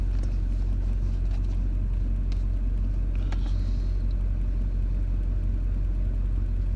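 An LB7 Duramax diesel truck engine idles steadily with a deep, slightly rough rumble, loud and close, running alone without voices.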